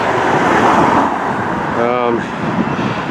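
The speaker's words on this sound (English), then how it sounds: "And I apologize for the traffic." Loud, continuous roar of road traffic passing on a town street in Penetanguishene, a vehicle swelling and fading nearby, with a brief tonal engine whine midway.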